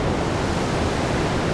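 Sea waves break on the shore at Palanga, a continuous, even roar of surf with no voices over it.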